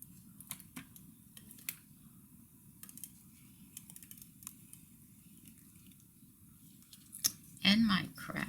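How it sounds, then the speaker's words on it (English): A tape runner lays adhesive onto a paper card over a craft mat: faint scattered clicks and taps, then one brief rasping zip near the end over a low steady hum. "And I'm going to use my tape runner for this."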